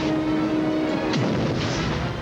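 Explosion and gunfire effects from the action film Fair Game: a loud, close boom with a sweeping low rumble after a steady tone, followed by lingering noisy blast decay.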